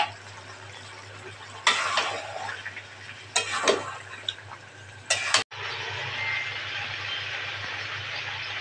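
Beef liver and potatoes stir-fried in a pan, a steady sizzle with several bursts of scraping and stirring, then a brief cut before the frying hiss returns, louder and continuous.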